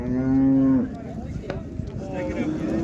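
A cow at the Qarshi livestock market lets out one loud, drawn-out moo nearby, followed by a busy murmur of people talking in the background.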